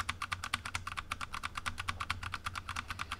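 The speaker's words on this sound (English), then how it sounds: "Here you have an example of the purple switches." Rapid, even keystrokes on a mechanical keyboard with purple switches, a close run of crisp clicks at a quick typing rhythm over a low background hum.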